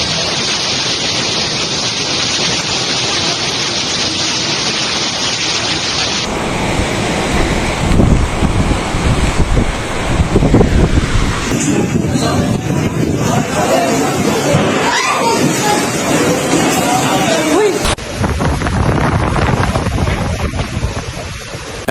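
Strong wind and heavy sea waves during Typhoon Uwan off the Philippines, a loud continuous roar and rushing surf with gusty buffeting throughout, shifting in character partway through.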